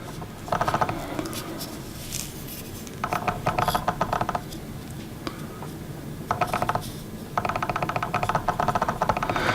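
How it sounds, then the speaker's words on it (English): Camera lens autofocus motor adjusting, giving bursts of rapid small clicks and ticks that come and go in several clusters over a faint background hum. "If you guys are hearing like clicking noises, it's because my lens is adjusting."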